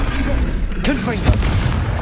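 A Confringo fire blast spell in Hogwarts Legacy erupts as a booming, explosive burst with a sharp crack, over dense game noise and a voice calling out.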